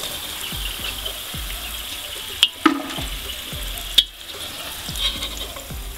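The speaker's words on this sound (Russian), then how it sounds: "Даем прожариться ему буквально минуты две и снимем его." Garlic frying in oil in a pan, a steady soft sizzle with occasional sharp clinks and knocks from utensils.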